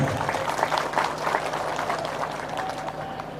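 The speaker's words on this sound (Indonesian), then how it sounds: "Tepuk tangan lagi." An audience at a religious lecture applauds, with a burst of brisk clapping that starts strong and gradually thins out over a faint hum.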